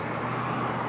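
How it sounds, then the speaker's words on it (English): A bus rumbles past on the road nearby, a steady, loud engine and tire roar with no voices. "There's the bus."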